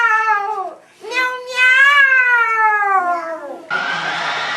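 A human voice imitates a cat, giving two long, wavering meows separated by a brief pause, loud and close, followed by a short burst of noisy hiss.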